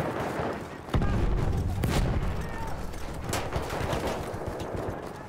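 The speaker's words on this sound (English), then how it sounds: "Is somebody shooting at me?" Video game gunfire, bursts of rapid shots with sharp cracks, loud and close, under a player's voice talking.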